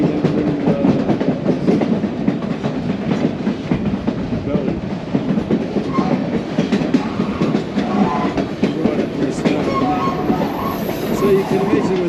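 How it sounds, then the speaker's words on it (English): A White Pass railway train runs through a mountain valley, its wheels clattering in a steady rhythm with occasional squeals, heard at a moderate distance for the whole stretch with little talk. "There's a train right going between that little valley."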